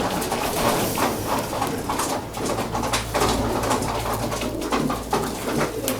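Racing pigeons in a loft after three days of full fasting, with a steady, busy mix of bird sounds and low rumbling coos close by, plus shuffling and occasional hoof-like tapping throughout.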